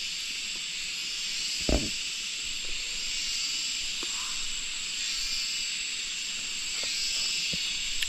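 Cicadas in a forest keep up a steady, high, shimmering drone throughout, with a few faint knocks and rustles beneath it.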